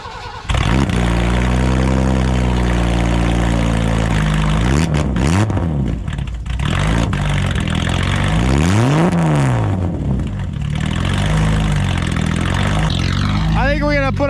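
A loud, raw straight-piped BMW E30 engine with no muffler revs repeatedly, pitch sweeping up and falling back in several sharp bursts over a steady rumbling idle.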